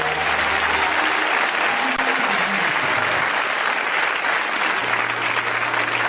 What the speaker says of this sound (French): Si tu me comprends, acclame, acclame, acclame